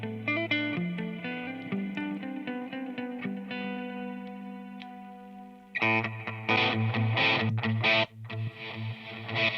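Electric guitar played clean through a Mesa Boogie Badlander amp with pedal-board effects, ringing chords and single notes with chorus-like shimmer, then a louder, brighter strummed passage toward the end.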